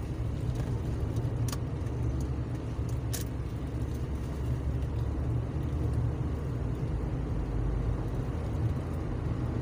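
Busy Pantura highway traffic between Brebes and Tegal toward Semarang, with buses, expedition trucks and container trucks, makes a continuous moderate roadside rumble and hiss of passing vehicles. It sounds steady in the afternoon and carries no talk.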